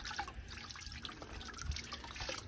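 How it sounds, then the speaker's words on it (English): Water is wiped across polishing compound on the paintwork of a restored cabover truck, giving close, uneven drips, trickles and splashy wipes that run for a few seconds with no talking. "I'm going to show you the magic when you wipe it off with water."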